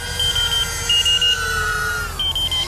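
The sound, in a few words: drone beeping warning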